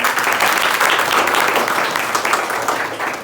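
Schoolchildren at a government high school clap together in a sustained round of applause, a dense, even patter of many hands holding steady for several seconds before easing slightly at the end.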